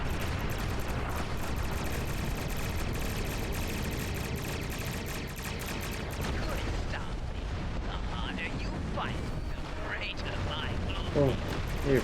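Photon cannons firing in the Star Trek Online space combat game, repeated rumbling blasts and weapon bursts layered over continuous game noise, fairly quiet overall, ending in a few sharper hits.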